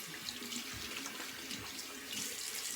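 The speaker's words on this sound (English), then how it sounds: "All right, cold water rinse." Tap water running into a sink for a cold rinse after a shave, a steady close splashing hiss that carries on without pause and with no voices.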